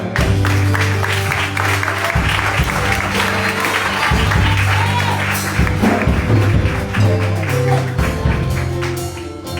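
A church congregation applauds together in a sustained wash of clapping, joined by tonal sounds and a few thumps, loud and close throughout.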